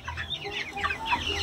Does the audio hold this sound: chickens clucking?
yes